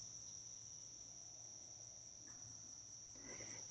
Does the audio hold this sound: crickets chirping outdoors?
yes